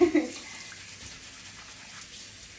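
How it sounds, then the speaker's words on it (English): A noisy sink drain gurgles and rushes briefly at the start, then fades to a faint lingering trickle, with no talking. "Use my noisy drain."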